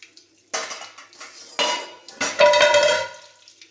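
Steel dishes and pans clatter and clink in a kitchen sink during washing up, a few distinct sharp knocks followed by a ringing metallic scrape, close and with no talk.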